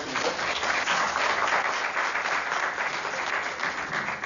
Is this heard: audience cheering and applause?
yes